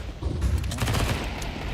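MP9 submachine gun firing in Counter-Strike, a short cluster of rapid bursts crackling over a dense background of game noise, loud and close, with no talk over it.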